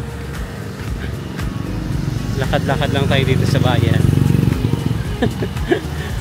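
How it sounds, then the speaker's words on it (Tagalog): Steady rumble of passing vehicles and engine noise on a busy street, with a person talking over it. "Tapos maingay yung mga sasakyan."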